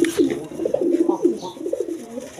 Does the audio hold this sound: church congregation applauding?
no